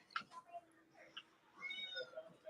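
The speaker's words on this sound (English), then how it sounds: "He's a talkative cat." A talkative pet cat meowing indoors, a few short, fairly faint meows scattered through a quiet room with light background noise.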